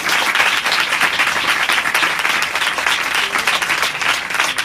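A church congregation applauding during a Hindi-Urdu sermon, a steady, dense wash of clapping from many hands that stays loud and even throughout, with no talk over it.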